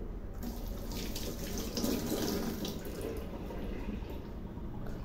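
Water pours steadily from a kitchen tap while food is rinsed, a constant close splashing rush that fills the whole stretch with no voices.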